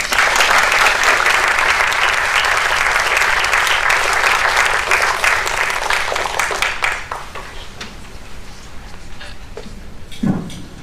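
An audience breaks into loud, dense applause welcoming speaker Ari Shavit at a lecture event. The clapping sustains for several seconds, then thins into scattered individual claps before fading.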